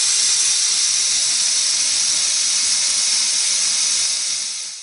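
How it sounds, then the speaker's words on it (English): Steam hisses steadily from the release valve of a pressure cooker during a stew cook, a loud continuous jet with no talking that fades slightly toward the end. "it took about a minute for my steam to vent"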